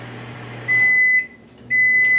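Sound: microwave oven running and beeping when done

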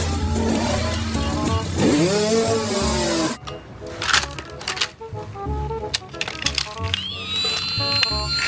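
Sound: toy motocross motorcycle

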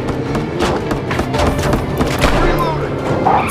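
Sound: gunfire in Gangstar New Orleans video game

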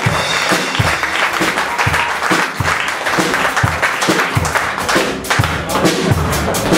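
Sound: pub audience applause

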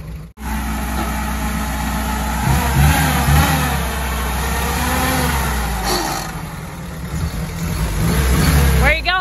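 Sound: old jeep engine driving off

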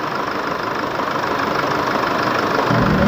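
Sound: diesel pickup engine idling

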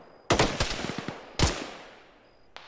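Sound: gunfire in a video game (Arma, ShackTac)

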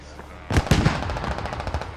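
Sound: gunfire and rockets at an abandoned striker, video game SquadOps

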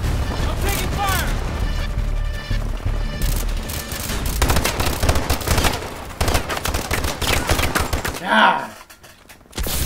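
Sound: gunfire in Call of Duty video game

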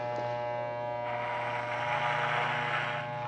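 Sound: electric hair clipper running during a haircut

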